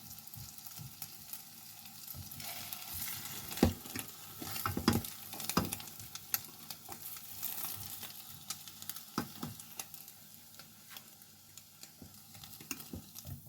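Bread and egg frying in a pan, a steady close sizzle with frequent scraping and clinks of a utensil stirring and turning the pieces, brief louder knocks now and then.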